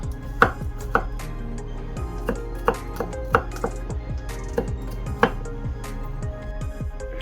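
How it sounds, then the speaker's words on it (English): Garlic is roughly chopped with a knife on a board, giving a dozen or so sharp, uneven knocks at a loose rhythm, close and fairly quiet with no talking. "roughly chop them up"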